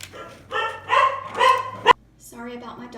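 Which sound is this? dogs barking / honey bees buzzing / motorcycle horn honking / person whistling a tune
dogs barking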